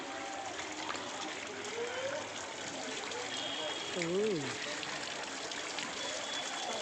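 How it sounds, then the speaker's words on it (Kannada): A waterfall in northeast India rushes in a constant broadband wash of flowing water, with people talking over it close to the microphone. "ಎಲ್ಲೊಂದು ನೀರು ಬರ್ತಾ ಇದೆ"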